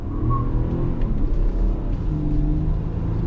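A 2022 Nissan Pathfinder SUV pulls away under throttle in first gear with a little wheel spin, its engine giving a loud, steady close-range rumble that builds without pause.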